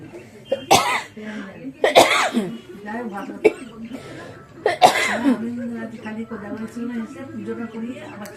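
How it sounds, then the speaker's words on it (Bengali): Someone coughs several times in sharp, harsh bursts, close up, with a little talking and throat noise mixed between the coughs. "সরি এখনো খুব কাশি হচ্ছে কথা বলতে পারছি না"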